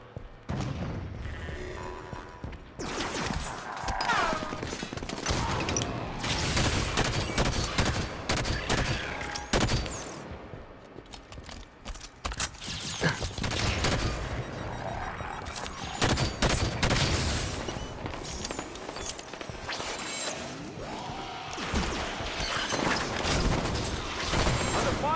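Halo 5 firefight: loud rapid weapon fire in dense bursts with booms and mechanical clatter, nearly continuous with brief lulls.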